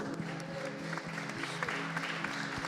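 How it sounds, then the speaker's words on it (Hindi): During a Lenten church service, a congregation claps its hands in praise in a quick, steady rhythm over sustained tonal music. "ताली बजाकर हम प्रभु की स्तुति करें।"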